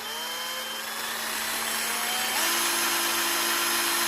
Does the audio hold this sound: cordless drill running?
yes